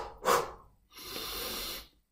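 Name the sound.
person breathing in a demonstration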